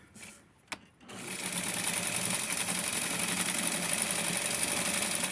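Steady, continuous whirring of a sewing machine stitching felt doll clothes, running loud and close after a brief quiet start with a single click.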